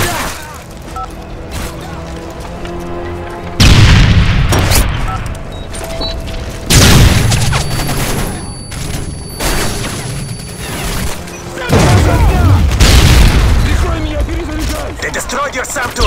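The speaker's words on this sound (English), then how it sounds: "They destroyed your SAM turret!" Heavy explosions destroy a SAM turret in the Call of Duty MW3 video game: several loud, booming blasts arrive in separate bursts over a rumbling battle background, with scattered crashes and mechanical noise between them.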